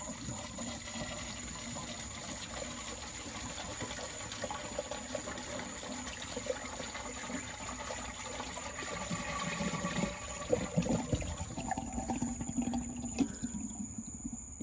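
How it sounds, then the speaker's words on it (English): A toilet tank drains with the flush handle held down and the water supply shut off, a steady rushing gurgle of water that grows rougher and more sputtering toward the end, close and faint with no talk. "Now you're going to hold the handle down to drain all the water out of the tank."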